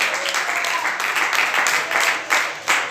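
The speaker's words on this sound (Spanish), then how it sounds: "Dale un aplauso a Dios si querés en esta noche." Congregation applause at an evening church service, a sustained, dense wash of clapping from many hands that fills the whole stretch at steady loudness, with small swells near the end.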